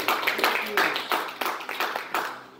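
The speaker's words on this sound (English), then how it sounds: "I'll give the Lord a hand clap," A church congregation claps during a Sunday night service, producing irregular, bunched bursts of hand claps at close range, with a few voices mixed in.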